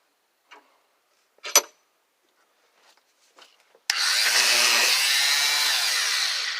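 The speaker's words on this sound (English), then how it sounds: "I said I was about to cut it with a jigsaw, but I grabbed the sander" After a few faint scattered clicks and bumps, a power sander starts up on wood and runs steadily and loudly with an even, broadband whir to the end.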